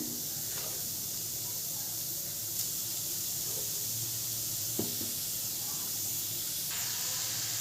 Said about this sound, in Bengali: কড়াইতে এবারে গ্রেট করা গাজরগুলো দিয়ে দেবো।